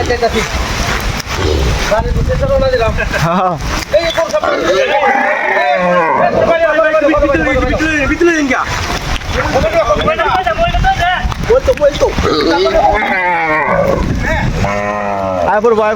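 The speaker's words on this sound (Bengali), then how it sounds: "আমাদের ঈদের গরু বৃষ্টিতে ভিজা বাড়িতে নিয়ে যেতেছি" A cow bought for Eid moos repeatedly while being led home through the rain, loud and close with wind buffeting the microphone and people talking over it.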